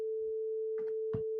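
A sine wave tone synthesized with the Web Audio API holds as one pure, unbroken hum at steady loudness, while brief bits of muffled background voice and noise come and go underneath.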